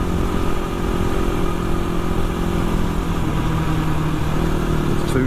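A two-stroke motorcycle engine runs steadily and close by, a continuous buzzing drone with no clear revving, loud and alone throughout.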